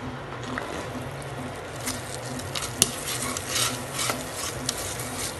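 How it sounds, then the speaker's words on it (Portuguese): Thick brigadeiro filling is scraped and spooned from a pan into a glass baking dish, giving soft wet stirring and scraping sounds with a few light clinks of utensil on cookware against a steady background hiss. "vou transferir para um refratário."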